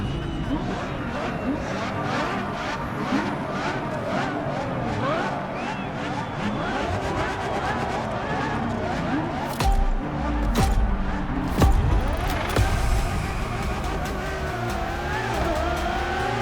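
A Ferrari supercar in The Crew Motorfest racing game drives under steady engine roar with rising and falling revs, a few brief tire squeals and louder bursts near the end, continuous and close throughout, with a voice talking over part of it.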